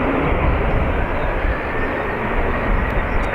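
A Ryanair Boeing 737-800 on its takeoff run from runway 28 right at Dublin Airport, bound for Gatwick, roars as a loud, steady broadband engine rush that fills the whole stretch without letup.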